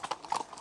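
Horse hooves clip-clop on the way to Neuwerk island in the German sea, several quick, fairly close hoof strikes in an uneven walking rhythm, with no talk over them.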